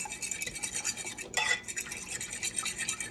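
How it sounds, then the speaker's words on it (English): Two eggs whisked with a fork in a bowl for baked mac and cheese, giving a steady, rapid scraping and clicking rhythm throughout, close and fairly loud, with no voices. "So take it and whisk it."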